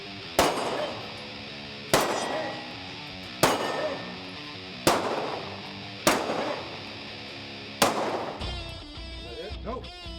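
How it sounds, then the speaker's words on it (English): Six sharp pistol shots ring out at steady intervals of about one and a half seconds, each one clanging off steel targets on a shooting course with a long metallic ring that fades away. Softer rustling and handling sounds follow the last shot. "From the shoot box, they will draw and they will engage these array of 10 steel targets, 1 through 10."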